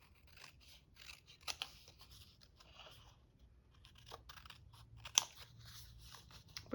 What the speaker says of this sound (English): I'm just going to cut this one out.